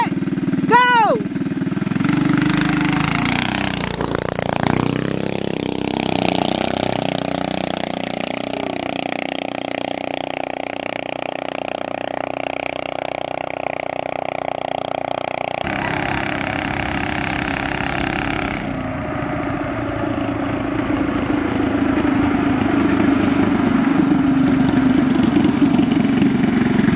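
A race vehicle engine revving hard at a drag strip, misfiring and cutting out under load before settling into a steadier drone and rising again, loud throughout with voices talking over it.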